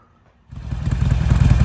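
Harley-Davidson Sportster engine fires up after half a second of silence and settles into a loud, close, lumpy idle with rapid uneven thumping.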